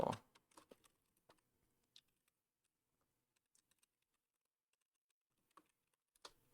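Sparse, quiet keyboard clicks, a burst of taps at the start, then scattered keystrokes with long pauses and another short flurry near the end.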